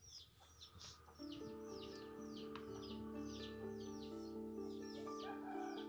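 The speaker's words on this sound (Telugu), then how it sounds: "ఈ వాసనకి కోళ్ళు కూడా వస్తున్నాయి" Farmyard chickens cluck near a garden, repeated soft clucks over a low background hum that steadies after the first second; the clucking continues throughout without talk.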